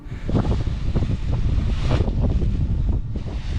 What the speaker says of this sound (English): We're just going to see how strong the wind is here.